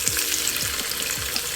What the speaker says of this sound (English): And saute those.